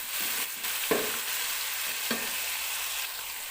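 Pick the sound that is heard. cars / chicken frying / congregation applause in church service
chicken frying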